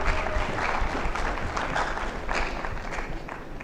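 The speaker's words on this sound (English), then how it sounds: "A round of applause as they make their way to their seats." Applause at a national exhibition award ceremony as winners return to their seats, a broad, steady crowd clapping that swells slightly and carries on evenly, slightly distant in a large hall.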